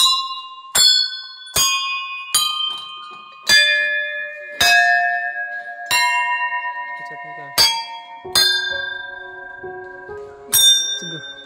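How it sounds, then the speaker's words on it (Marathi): Metal temple bells at a temple in water, struck about a dozen times at irregular intervals, each strike ringing with a clear, sustained tone that decays before the next, loud and close. "प्रत्येक मंदिराच्या घंट्याचा साऊंड वेगवेगळा आहे."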